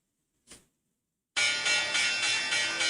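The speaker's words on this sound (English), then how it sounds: "ringing the closing bell" A brief muffled knock is followed, after a short gap, by a stock exchange closing bell ringing loudly and continuously in rapid repeated pulses, bright and close, with no voices.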